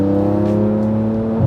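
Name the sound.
Porsche 991 Turbo S accelerating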